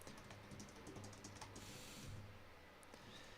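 Keystrokes on a computer keyboard clatter in a quick irregular run, fairly faint and close, alone without voices over a low steady hum.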